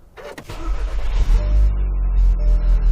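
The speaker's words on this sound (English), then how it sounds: "let's just start the car up" A 2016 VW Golf R MK7 engine cranks and fires, catching quickly and settling into a steady, low idle rumble close by.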